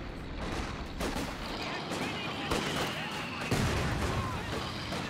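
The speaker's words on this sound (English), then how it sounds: "Sounds like we've got the first mortar for Cruzz going to work" Mortar and gunfire in a Company of Heroes 2 battle, sharp booming impacts and rattling shots scattered over constant battle noise, with a commentator talking over it.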